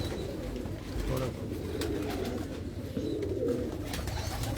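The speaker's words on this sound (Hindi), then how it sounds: "ये हैं जी रेड आइज के कबूतर, मियां साहब के लाल अखे कबूतर" Red-eyed pigeons in a Lahore fancier's loft coo steadily, a low, murmuring chorus that runs on without a break at moderate volume.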